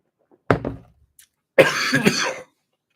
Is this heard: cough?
yes